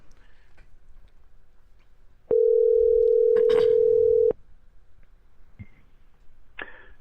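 A telephone line plays a single steady dial tone for about two seconds, loud and close, set between faint clicks and light handling noise while a call to a podcast guest is placed.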